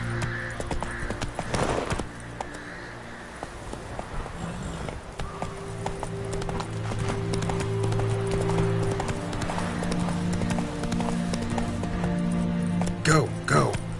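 Roach, the horse in the video game The Witcher 3: Wild Hunt, gallops with a quick, rhythmic clip-clop of hooves that runs throughout, alongside game ambience and a brief rider's call.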